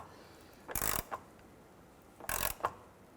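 A ratchet wrench turns the trailing arm bracket bolt on a 2006-2013 Chevrolet Impala, giving two brief close bursts of clicking, each followed by a small clack.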